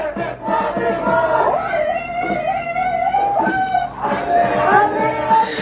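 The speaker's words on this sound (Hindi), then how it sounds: "तो सैकड़ों की तादाद में लोग सड़क पर उतरे और ये प्रदर्शन हो रहा है।" Hundreds of people fill a street in protest, shouting loud rhythmic chants as a massed crowd, with individual voices rising and falling through the continuous din.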